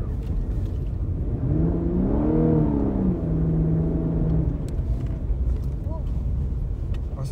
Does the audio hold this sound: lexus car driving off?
yes